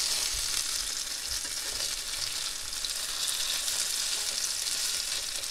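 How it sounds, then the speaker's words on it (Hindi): Hara bhara kebabs fry in a pan with a steady, loud, close sizzle that continues unbroken throughout, with no talking. "एक तरफ से अच्छे फ्राई हो गए इसी तरह मैं सारे कबाब पलट लेती हूँ"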